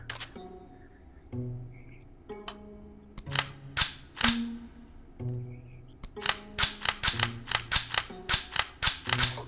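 Mechanical clicks and clacks from a jammed gun and its magazine in a modded video game, a sparse series of sharp snaps that speeds up into a fast, irregular clatter, close and dry.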